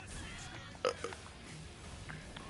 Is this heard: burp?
yes